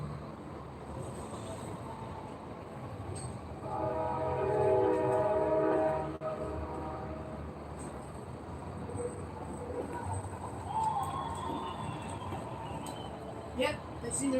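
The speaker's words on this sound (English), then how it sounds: "CSX is coming at this time." A CSX freight train passes with a steady rolling rumble, and its horn blasts for a couple of seconds in the middle, moderately loud and somewhat distant, with occasional voices nearby.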